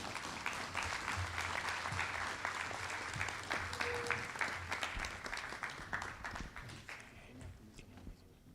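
Sustained applause from an awards ceremony audience fills the hall, steady and dense throughout before slowly thinning toward the end.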